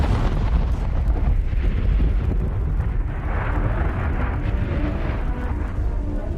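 A nuclear explosion roars as a continuous, dense low rumble with a steady, heavy blast of noise and no break.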